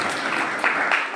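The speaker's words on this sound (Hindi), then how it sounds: "जोरदार तालियां आपने दिए" Children applauding during a youth group talk, a loud continuous patter of many small hands with a couple of brief surges near the end.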